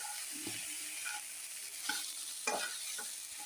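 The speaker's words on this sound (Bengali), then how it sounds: "ভালো করে নেড়ে দিলাম।" A spoon stirs cauliflower with turmeric and oil in a pan, producing soft, close scraping strokes over a quiet background sizzle, with a few distinct stirring scrapes and no talk.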